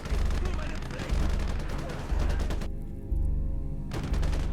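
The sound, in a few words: gunfire from video game Gates of Hell: Liberation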